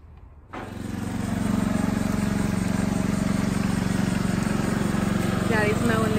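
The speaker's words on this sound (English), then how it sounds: "Daddy's mowing the grass." A lawn mower starts up and settles into a steady, droning engine hum nearby, running continuously while cutting grass.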